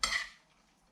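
Utensils mix a simple tomato salad in a bowl, giving one brief close clink and scrape that fades quickly.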